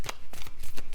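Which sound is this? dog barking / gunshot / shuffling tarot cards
shuffling tarot cards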